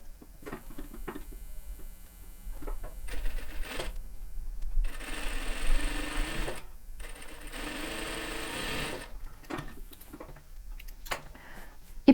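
A sewing machine stitches a diagonal seam across a patchwork block. It makes bursts of rapid mechanical ticking and whirring, with short pauses between runs, close by and moderately quiet.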